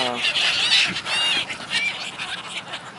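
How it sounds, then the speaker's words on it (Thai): A crowd of seagulls being fed at Bang Pu, Thailand, squawking and calling loudly and close by in overlapping cries over outdoor background noise. "ให้อาหารนกนางนวลนะฮะ"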